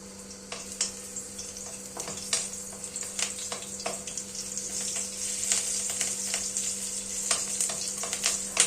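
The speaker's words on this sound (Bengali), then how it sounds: "গরম তেলে দুটো কাঁচা লঙ্কা দেব।" Two green chillies fry in hot oil that just cooked potatoes, giving a close, crackling sizzle with sharp pops and spits over a low steady hum, building slightly louder over time.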